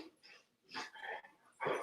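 Dogs playing give out a few short barks and yips in bursts, moderately close, with quiet gaps between them and no talk.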